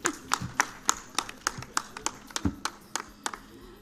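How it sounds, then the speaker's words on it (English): A handful of distinct claps from a small conference audience at the close of an event, sparse and uneven, roughly twelve sharp hand claps spread over a few seconds with faint murmuring between them. "Linda says that you should clap for me too."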